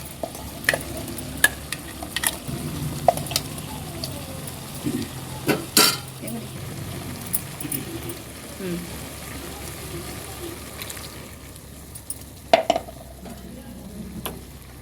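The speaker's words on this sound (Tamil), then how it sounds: "தேங்காய் அரவி இதில் ஊற்றிட்டு நல்லா கலந்து விட்டு" Spoon scraping and stirring ground coconut paste into cooking vegetables for aviyal, with steady sizzling underneath and occasional sharp clinks of utensil against the pot.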